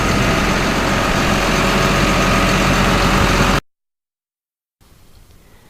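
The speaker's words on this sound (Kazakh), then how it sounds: "Өзі төгетін жүк көлігі, немесе қысқаша төкпе көлік." A dump truck's engine idles with a loud, steady low rumble for several seconds, then cuts to sudden silence before a faint hum returns.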